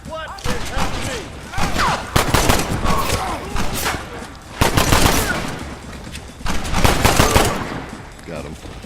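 Rapid gunfire crackles through a video game shootout in Red Dead Redemption, with dense overlapping shots and loud bursts in waves, while characters shout over the firing.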